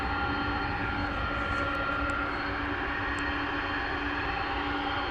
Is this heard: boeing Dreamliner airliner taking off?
yes